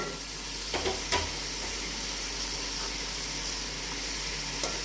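Whole spices sizzle in about a spoonful of hot oil for beef pulao, a steady close frying hiss with a few stirring scrapes and clinks.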